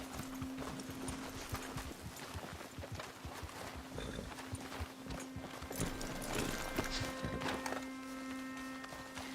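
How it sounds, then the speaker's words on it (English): Horse hooves clip-clop at a steady walking rhythm in Red Dead Redemption 2, close and moderately quiet over an outdoor ambience with a low hum and faint insect sounds. "Got a problem with that horse?"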